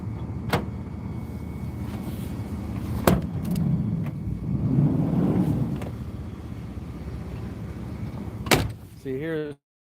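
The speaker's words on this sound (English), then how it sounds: "Oh, how did this door lock?" A car door is tried and found locked beside an ice auger at a frozen outing, with sharp clunks of the handle and latch, a rustling stretch and a final rattling thud, all close by.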